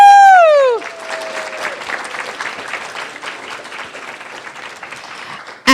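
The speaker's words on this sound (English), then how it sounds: "big round of applause" Audience applause at a youth novelists convention panel, a broad steady round of clapping with some cheering that runs for several seconds after a brief spoken introduction, then cuts off.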